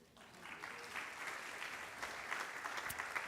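Audience applause at a lecture swells up from quiet and holds steady, a dense wash of clapping from a seated crowd.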